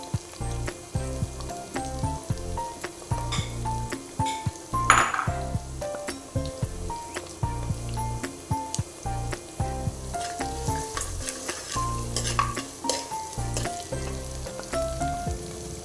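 Curry leaves crackle and sizzle steadily in hot oil for a fish pickle, with a sharp burst early on and occasional clinks of a spoon stirring in the pan.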